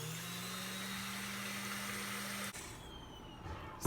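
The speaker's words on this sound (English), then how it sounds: "So I'm going to go ahead and start the mixer on high." An electric mixer runs on high speed whipping egg whites for a cauliflower batter, giving a steady motor whine and hum that cuts off abruptly partway through and leaves near-quiet behind.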